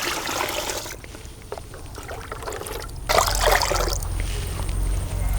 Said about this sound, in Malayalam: അതുകൊണ്ട് നമുക്ക് 10 ലിറ്റർ വെള്ളം ഒഴിച്ചു കൊടുക്കണം.